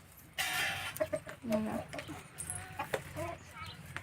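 Chickens cluck in short bursts nearby in a village yard with goats, mixed with other farmyard noises and people talking in the background.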